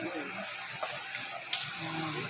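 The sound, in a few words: shower water running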